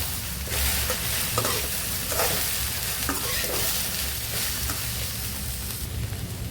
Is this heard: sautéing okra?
yes